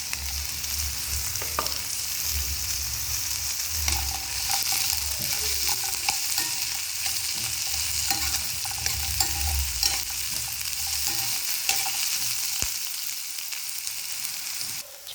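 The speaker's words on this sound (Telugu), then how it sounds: "జీడిపప్పు కూడా వేసుకొని ఫ్రై చేసుకున్నాం" Cashew nuts fry in a pan with a constant oily sizzle, with scraping stirs and occasional clicks of a utensil against the pan throughout.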